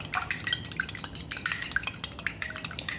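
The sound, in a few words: whisking an egg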